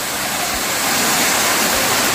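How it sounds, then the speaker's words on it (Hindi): Siddha Khol waterfall near Kasdol roars as a steady, loud, broadband rush of falling water, continuous throughout with no voices. "और गाइस ये है देखिए वाटरफॉल"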